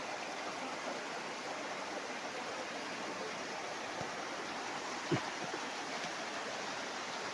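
Steady broadband rush of flowing water, a river running continuously nearby, with a faint brief knock partway through.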